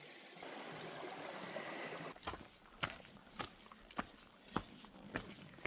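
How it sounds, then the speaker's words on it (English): Creek water flows at a trail crossing in Yosemite National Park, a faint steady trickle and rush, later broken by a series of regular soft thumps like footsteps on the bank. "Reached the first creek crossing."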